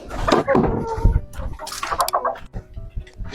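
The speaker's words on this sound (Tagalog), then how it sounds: "Litem, Pa, pakainin mo ito manok mamaya ha" A chicken clucks in a few short bursts amid busy household noise and some talking nearby, with the calls fairly close and moderately loud.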